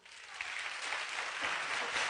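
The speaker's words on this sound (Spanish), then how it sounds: "se merece un aplauso" Audience applause after a speaker's tribute, a dense, even wash of clapping from a crowd that stays steady and fairly close for a couple of seconds.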